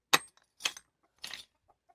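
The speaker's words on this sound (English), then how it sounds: "Chickens." Chickens clucking in short, separate bursts, three clear clucks spaced about half a second apart at close range, otherwise quiet.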